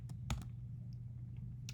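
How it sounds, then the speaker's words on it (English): Computer keyboard keys pressed for a delete shortcut on a Mac give a few quiet, crisp clicks, a quick pair near the start and another near the end, over a low background hum. "the quick way to delete a picture is to hit Command Delete on your keyboard"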